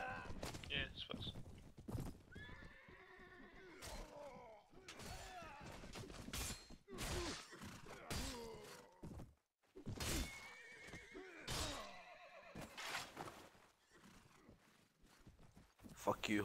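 Horses in the Full Invasion 2 mod: repeated loud neighs and whinnies with clip-clop hooves and thuds, coming in bursts with short quiet gaps between.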